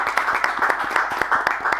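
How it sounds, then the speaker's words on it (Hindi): A group claps together in a steady stream of fairly loud, closely spaced claps for a school, the applause sustained and even with no talk over it. "डॉन बॉस्को के लिए ज़ोरदार क्लैपिंग करेंगे जी, हम तालियां बजाएंगे"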